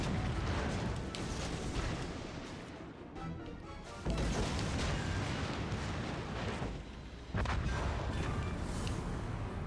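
A battleship destroyed in World of Warships Legends, heavy booming explosions and rumbling blasts filling the sound continuously, with fresh loud impacts bursting in partway through and near the end.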